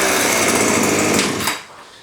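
An Oleo Mac petrol strimmer engine runs at a loud, high-revving buzz close by, then drops sharply toward idle near the end.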